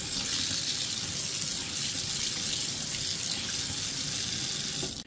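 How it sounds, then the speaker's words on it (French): Water runs steadily down a freshly unclogged kitchen sink drain, a continuous close rushing flow that stops abruptly at the end, with no voices. "Et là, vous allez avoir un évier super bien débouché."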